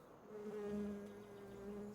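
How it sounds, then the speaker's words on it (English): Bees buzz in the Farming Simulator video game, a steady, low droning hum that holds without a break, quiet and alone with no voices. "More bees."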